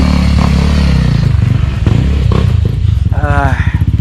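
Motorcycle climbing a dirt hill on the Khao Nang Yong trail, engine loud and close with a steady labouring drone, rattles and scrapes from the rough ground, and a brief rising rev near the end; a voice speaks over it.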